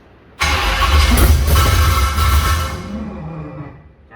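A burnout car engine fires up with an abrupt loud start, then roars at a steady rumbling idle that gradually eases down, close and alone with no talking.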